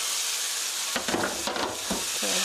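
Pork and chopped green onion sizzling and stir-frying in a hot pan, with a steady close hiss and several scraping stirs partway through.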